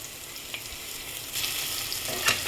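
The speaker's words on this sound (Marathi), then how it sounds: "आता यामध्ये मी आलं लसूण पेस्ट टाकते" Ginger-garlic paste fries with onions in a pan, giving a soft, continuous sizzle with a couple of brief louder hisses and faint stirring scrapes, no voices.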